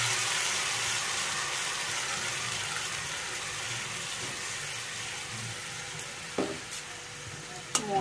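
Spice paste of turmeric, cumin, coriander, pepper and Kashmiri chilli powders frying in oil with reddish-browned onions, a steady close sizzle running throughout while a spatula stirs, with a few sharper scrapes and knocks against the pan near the end.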